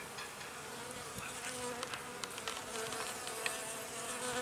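A dense swarm of honeybees around a hive in winter hums continuously, with individual insects buzzing past close by over a steady background drone.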